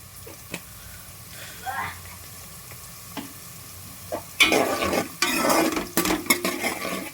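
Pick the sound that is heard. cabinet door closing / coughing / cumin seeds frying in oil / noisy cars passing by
cumin seeds frying in oil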